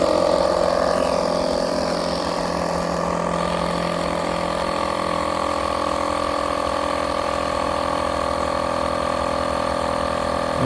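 Air compressor pumping up a compressed air foam rocket, a loud steady mechanical chugging drone with a sustained motor hum and rattling pulses, continuous throughout with no talking.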